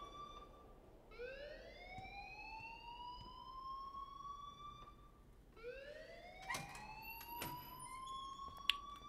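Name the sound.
fire alarm ringing in video game Life is Strange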